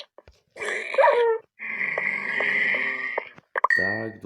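A pet dog in the Minecraft video game gives whimpering, whining yelps in a few bursts: a short cry, a longer sustained whine, then a quick yelping flurry, close and clear.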